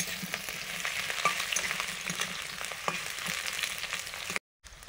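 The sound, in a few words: frying potato and taro pieces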